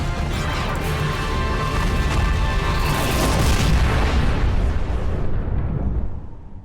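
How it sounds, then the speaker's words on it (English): Explosions in the video game Final Fantasy XIV during a Bahamut fight, a sustained loud booming rumble with crashing bursts that swells, then cuts off abruptly near the end. "Explosions!"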